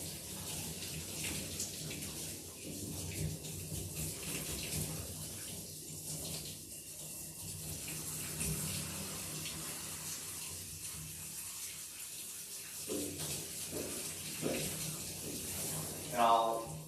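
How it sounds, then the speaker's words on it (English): Low-pressure water runs steadily while a Siberian husky is rinsed during a bath, a soft continuous splashing flow, fairly quiet and close, with a person talking over it for much of the time. "I'm going to rinse out his eyes really good with this low water pressure"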